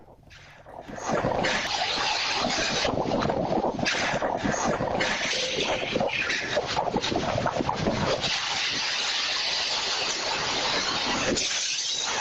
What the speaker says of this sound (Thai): ฝนตกลมแรงนี่ เดี๋ยวไปดูคลิปนี้ครับ